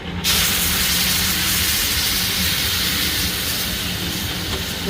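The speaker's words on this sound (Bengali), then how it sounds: "ঘিয়ের সাথে ভালো মতন ভাজা হয়ে গেছে সুজি। দুধ দিয়ে দেবো" Milk poured into hot semolina fried in ghee, setting off a loud, continuous sizzling hiss that starts suddenly and holds steady close by.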